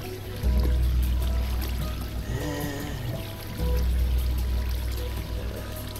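Water flowing in the Minecraft video game, a continuous pouring, streaming wash with low rumbling swells, fairly loud and steady with no talk over it.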